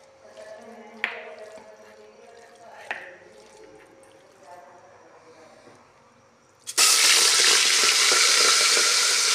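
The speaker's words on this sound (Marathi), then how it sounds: "हे तेलात भाजले की तेल भरपूर सुटतं." Mutton rubbed with turmeric and salt drops into hot oil, giving a sudden loud, steady sizzle after a few quieter stirring clinks and a voice talking earlier.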